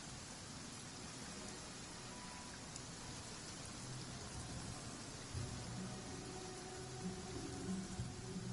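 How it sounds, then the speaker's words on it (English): Steady rain falling in a courtyard in Genshin Impact, a dense, even hiss of drops on surfaces that runs unbroken throughout, close and fairly loud, with no voices. "I love listening to the rain from the courtyard."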